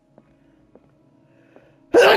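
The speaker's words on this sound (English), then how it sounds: "I need to sneeze." A person lets out a single loud, sudden sneeze that bursts in near the end, after a quiet stretch with only a few faint ticks.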